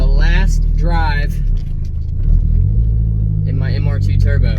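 A Toyota MR2 Turbo on the move, its engine a low steady rumble throughout, with a person talking over it for most of the clip.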